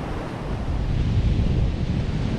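Ocean waves on Assateague beach wash in as a steady roar of surf, mixed with rumbling wind buffeting the microphone, loud and continuous with no voices.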